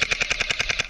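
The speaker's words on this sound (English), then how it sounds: "Is he shooting through that?" An airsoft gun fires in rapid full-auto bursts at an outdoor airsoft site. The crisp snaps come about ten per second in an even rhythm, close by, with no talk.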